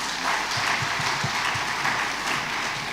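Sustained applause from a large audience at a town hall meeting honouring a vice president, a dense steady clatter of clapping filling the whole stretch with no voices over it.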